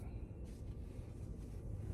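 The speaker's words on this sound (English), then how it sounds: "And it's windy out here." Steady low rumbling wind buffets the microphone outdoors, a constant dull roar with no pauses throughout.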